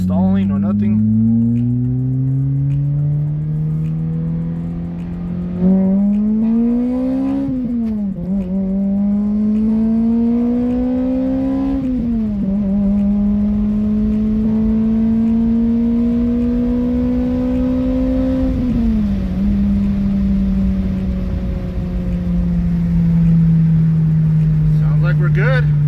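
Steady engine drone of a Toyota 2ZZ four-cylinder, freshly fitted with an oil catch can, running close by with a few gentle rises and falls in pitch as it is driven and then parked; someone talks over it at times.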